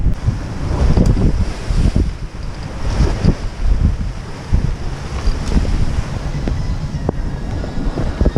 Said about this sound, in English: Beating to windward in short period waves.